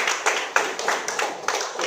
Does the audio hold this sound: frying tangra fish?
no